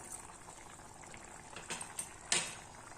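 Pea pulao with squeezed lemon juice bubbles in a pressure cooker pot, a faint, steady simmer with a few soft pops and splashes near the end.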